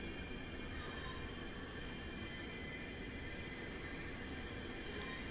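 Caltrain train wheels in Train Sim World 6 grind around a curve, a faint high flange squeal riding over a steady, continuous rolling rumble for the whole stretch, with no voices.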